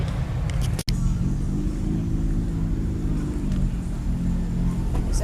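A car engine runs at a nighttime car meet, a low steady rumble with a slight rise in pitch, heard nearby over faint crowd background.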